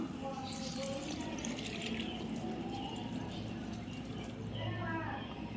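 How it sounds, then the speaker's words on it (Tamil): Water splashes and trickles steadily into a cooking pot for millet biryani, with a continuous running-liquid hiss and faint background voices. "இப்போ தேவையான அளவுக்கு நம்ம தண்ணி சேர்த்துக்கலாம்"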